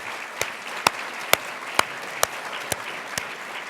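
A conference audience at a nonprofit governance symposium applauding to thank sponsors, a steady roomful of clapping with a few sharper individual claps standing out.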